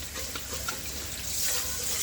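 Tap water runs steadily into a sink during dishwashing, a continuous hissing splash with faint clinks of bowls, close and alone without talk.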